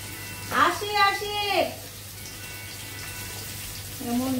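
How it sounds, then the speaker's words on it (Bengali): Potatoes fry in a pan with a steady, soft sizzle, while someone speaks intermittently over the cooking. "লাল লাল করে ভেজে নিচ্ছি"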